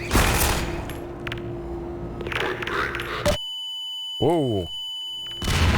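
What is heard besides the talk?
grenade explosions in the VR video game Half-Life 2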